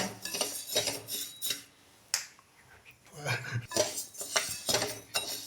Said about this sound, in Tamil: அரிசியை இந்த மாதிரி வறுத்துக்கோங்க நல்லா ப்ரௌனிஷ் கலரில் வர வரைக்கும் நல்லா வறுத்துக்கோங்க